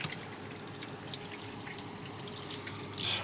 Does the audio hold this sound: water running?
yes